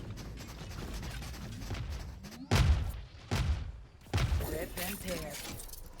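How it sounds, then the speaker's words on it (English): Gunfire in a competitive tactical shooter match: bursts of shots and sharp impacts spread through the clip, with a louder cluster around the middle, all under a steady commentator voice talking over the action. "And then the shots were flying into the direction of CTE."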